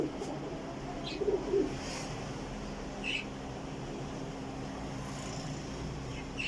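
Pigeons from a fancier's breeding pairs coo softly in short bursts against a steady, low background hum, with no talking.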